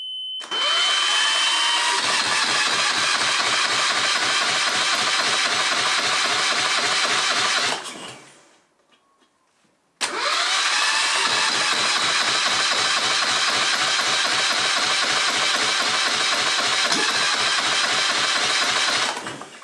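A Yanmar marine engine is cranked decompressed by its starter in two long runs of rapid, even chugging pulses with a short pause between them. It turns over loudly and close up without catching.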